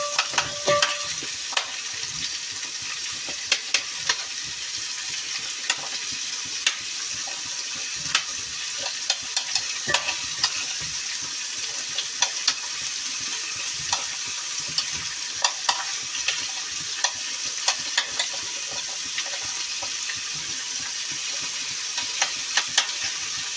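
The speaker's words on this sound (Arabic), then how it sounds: "قلبي بقى كده ايه بقى الجزر مع البصل مع الثوم" Carrots sautéed with softened onion and garlic in a pot, a continuous close sizzle broken by regular clicks and scrapes of a spoon stirring, with no talking.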